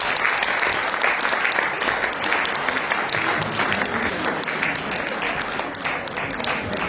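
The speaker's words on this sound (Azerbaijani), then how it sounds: "Təbii ki, alqışlarımızla." Steady, dense applause from the audience at a Shirvan saz music event, clapping sustained evenly and fairly loudly throughout, with no pauses.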